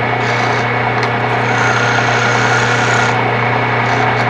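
Wood lathe spinning a small spindle while a roughing gouge cuts it down, a loud steady motor hum and whir with light scraping cuts over the top, continuous and close.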